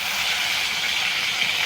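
Fish heads dropped into hot oil in a kadai, salted and coloured with turmeric for a village-style meal, give a steady, loud broadband hiss of sizzling that runs unbroken through the short stretch with no voice over it.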